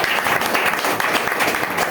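Audience applause at a business plan presentation, a dense, steady wash of many hands clapping close and loud throughout, with no voices over it.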